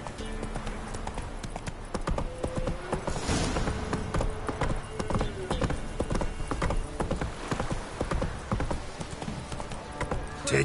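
Roach, a horse in The Witcher 3, trots with continuous, close, loud hoofbeats in a steady clip-clop, with a brief whinny and faint ambient game sound beneath.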